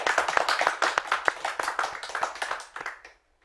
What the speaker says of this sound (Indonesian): Selanjutnya mari kita beri aplaus